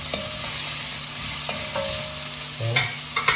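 Chopped celery tumbles into a pot of kale and beef soup, with a few sharp clinks and scrapes of stirring over a low, steady sizzle; no one speaks.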